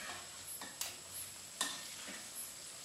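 Pork chop frying in a pan, a steady broadband sizzle with soft spatters throughout and two sharper pops or utensil taps, moderately close and with no talking.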